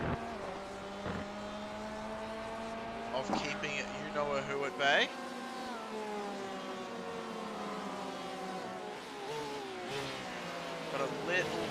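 Race car exhaust screaming at high revs in a racing sim at Fuji Speedway, a sustained engine note rising and falling under continuous commentary.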